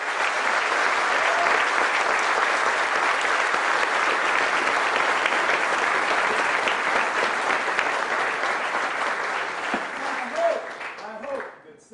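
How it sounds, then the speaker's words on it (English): An audience gives a long, loud round of applause at a flag presentation, sustained clapping that tapers off near the end as a voice begins to speak. "Can you give a round of applause for me?"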